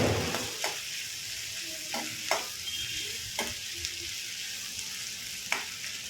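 Onions frying in oil for onion chutney, a close sizzle under repeated spatula scrapes and stirs at irregular intervals.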